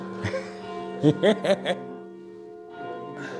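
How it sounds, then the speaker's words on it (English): Deep bell tones ring out over a steady resonant hum, with a cluster of brighter strikes in the middle before the sound fades back. "I heard the church bells hollowing out the sky"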